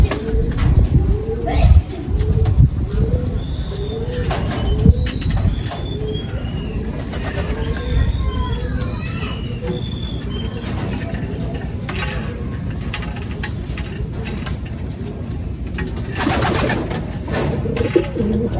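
Pigeons coo repeatedly at close range in a loft during training, soft rolling calls recurring throughout, with chirps, wing flutters and shuffling around them and a person talking intermittently over the birds.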